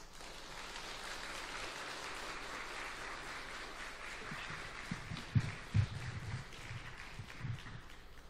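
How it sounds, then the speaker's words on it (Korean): A church congregation applauds at a Friday evening revival service, a steady, distant patter of many hands with a few louder bursts of clapping near the end. "우리 목사님 모실 때에 큰 축복의 박수 부탁드리겠습니다."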